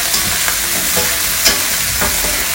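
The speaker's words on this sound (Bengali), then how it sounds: "এটাকে এখন ভালোভাবে ভেজে নিব" Garlic frying in hot oil until golden brown, a loud close sizzle with rhythmic stirring scrapes from a spatula in the pan, no voices.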